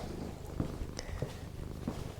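A house cat purring softly and steadily up close, a low rhythmic rumble that continues throughout with no talking over it.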